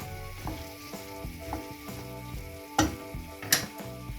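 Celery and potatoes sizzle in a pan while being stirred, with a steady frying hiss, a few soft scrapes and two sharper clatters of the utensil against the pan near the end, with music in the background.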